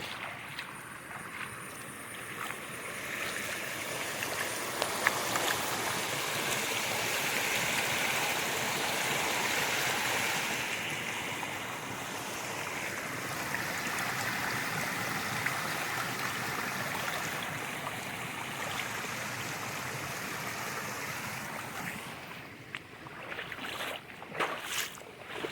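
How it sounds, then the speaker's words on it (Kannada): Rainwater rushes along a stream beside a flooded paddy field in the rainy hills of the Malnad region, a steady broad close roar of flowing water that runs on alone throughout. "ಮಳೆಯಲ್ಲಿ ನಿಂದ ಹೂವಿನ ಹಾಗೆ ಇಲ್ಲಿಂದ ನೀರು ಹರ್ಕೊಂಡು ಬರ್ತಾನೆ ಇದೆ."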